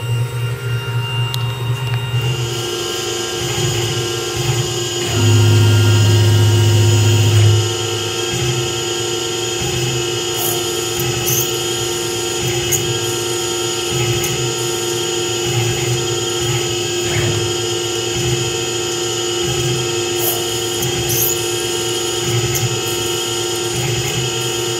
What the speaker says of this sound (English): So in the handles right now, I'm trying to drill this long, tiny drill bit.